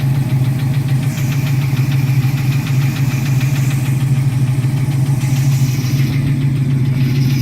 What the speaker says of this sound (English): That little bit of tapping noise is your solid lifter cam